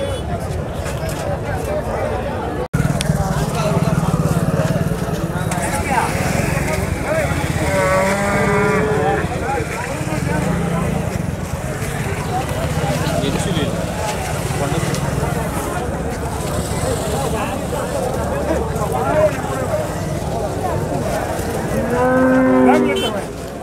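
A Jersey cow at a busy cattle market moos repeatedly, long drawn-out calls rising above a constant crowd murmur, with voices talking throughout and passing motorbike engines in the background.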